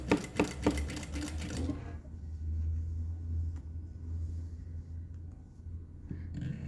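An industrial sewing machine stitches a skirt with a rapid, close mechanical chatter for under two seconds, then stops, leaving a low motor hum and a few faint clicks.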